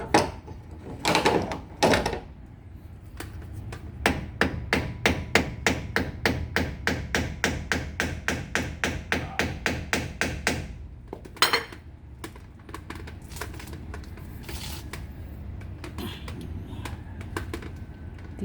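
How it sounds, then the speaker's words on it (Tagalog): A hammer strikes metal in a fast, even series of sharp clanks, close by, during wheel bearing and suspension work, with a few heavier knocks before and after the run. "Martilyo."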